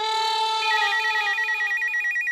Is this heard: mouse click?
no